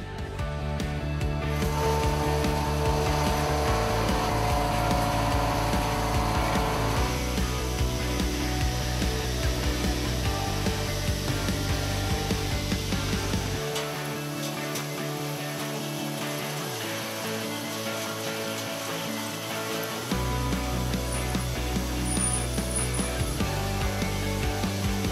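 A Doosan SVM 4100 three-axis vertical machining center milling aluminum, steady whining spindle and cutting tones that shift pitch in stages, running continuously with a brief quieter pass midway.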